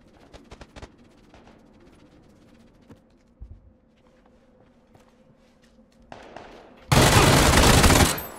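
Gunfire in the battle royale game PUBG on a fog map: faint scattered shots and footsteps, then a sudden loud sustained burst of close shooting near the end.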